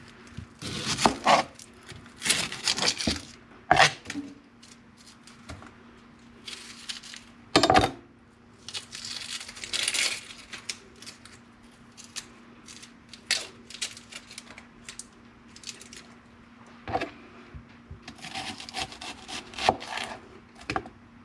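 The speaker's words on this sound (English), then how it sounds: "Slice these onions. Leave them just like that." Sweet Vidalia onions being sliced with a knife on a cutting board for homemade salsa, giving a run of close, crisp cutting strokes and scraping rubs in irregular bursts, with no talking.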